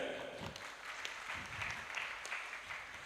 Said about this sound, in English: Please give applause because he is attending here